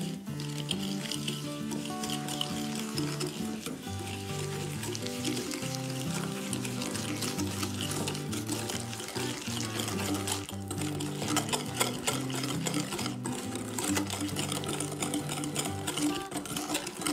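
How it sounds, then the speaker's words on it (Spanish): Egg yolks and sugar being stirred with a hand whisk in a bowl, a continuous close scraping and rhythmic clatter of wire against the bowl, with faint talk at times. "Añadimos el azúcar y removeremos con unas varillas manuales."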